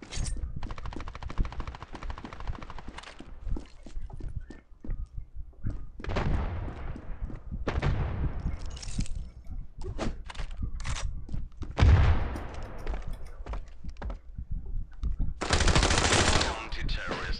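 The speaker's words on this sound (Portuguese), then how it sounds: "Que arma é essa? P90." Rapid bursts of P90 submachine gun fire in the shooter game Standoff 2 rattle out repeatedly, loud and close, mixed with other gunshots and impacts.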